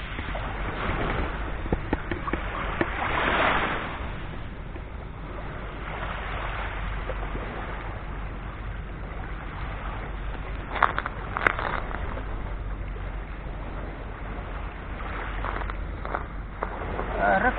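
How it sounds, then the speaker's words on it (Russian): Sea waves washing onto a shell-strewn beach at Anapa near the Kristall guesthouse on a rainy day, a steady broadband wash with occasional louder surges, heard alone. "сейчас, наверное, просто посмотрим на море, послушаем волны"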